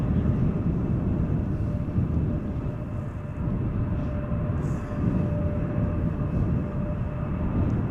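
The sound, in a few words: Boeing 787-10 Dreamliner aircraft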